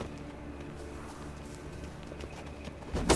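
Horse hooves clip-clop in a steady walking rhythm in The Witcher 3 game, fairly quiet under a low ambient bed, with a louder burst at the very end.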